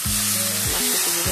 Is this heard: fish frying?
yes